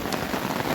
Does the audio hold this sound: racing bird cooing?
no